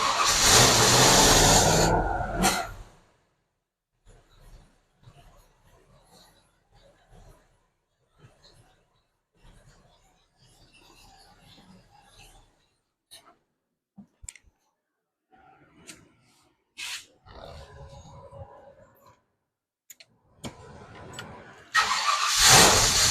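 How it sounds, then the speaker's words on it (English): A 1967 Ford Falcon with a C4 automatic transmission cranks and catches, a loud burst of engine noise at the start, then long quiet stretches with faint clicks and a voice, before the engine roars up again at the end. "I'm going to start it up and then put more fluid in as it's running."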